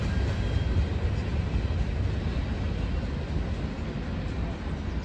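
Union Pacific freight train with older fallen-flag cars rolling past outdoors, a steady loud low rumble of wheels and cars that holds evenly throughout without horn blasts.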